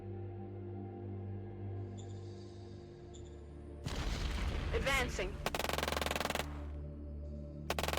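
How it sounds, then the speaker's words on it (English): Rapid bursts of gunfire from the strategy game Shadow Empire crackle in two loud volleys mid-way, preceded by quieter synthetic tones, while a voice speaks briefly. "We're definitely taking gunfire."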